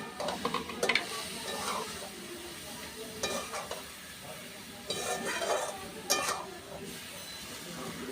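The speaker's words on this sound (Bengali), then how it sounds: "এইভাবে নাড়তে নাড়তে শাকটা আমার খুব সুন্দরভাবে একদম মিশে যাবে।" Bete shak greens frying in a pan with split green chilies give a soft sizzle under repeated bursts of a spoon scraping and clinking against the metal as the greens are stirred.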